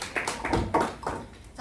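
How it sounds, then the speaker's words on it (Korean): Students in a classroom give a brief, scattered round of claps: a handful of soft, uneven hand claps heard at moderate distance. "박수!"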